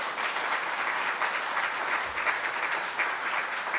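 Church congregation applauding together during a sermon, a steady dense wash of clapping that holds at an even level throughout with no talk over it.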